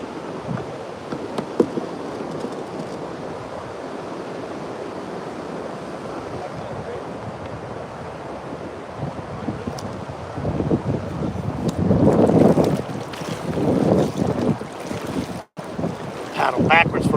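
Steady wind roaring across open water around a small paddled fishing boat on a catfish outing, a constant broadband rush with louder gusts building toward the end and faint water movement beneath.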